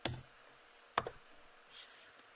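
A few sharp, separate clicks come from a computer keyboard as a number is typed in, with quiet gaps between the keystrokes.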